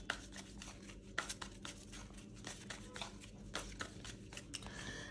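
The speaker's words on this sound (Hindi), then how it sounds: "मैरिड लोगों का कार्ड्स निकालती हूँ" Tarot cards shuffled and drawn by hand, a close run of quick papery riffles and flicks in irregular bursts, quiet and without speech.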